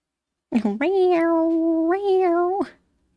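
A cat in a Goosebumps episode gives one drawn-out, loud meow lasting about two seconds, rising in pitch near the end and heard alone.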